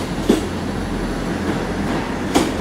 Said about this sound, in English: we got a Great Western Railway service to Cardiff Central coming in as well